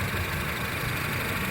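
Honda Civic FD1 automatic from 2008 idling smoothly, a steady, even engine hum heard close up with no talking.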